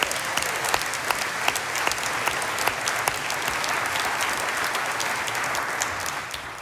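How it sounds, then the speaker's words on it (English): A large conference audience gives a sustained round of applause for the hotel staff at the Mackinac Policy Conference, dense even clapping with scattered sharper claps throughout, holding steady at full strength. "So let's give them our round of applause."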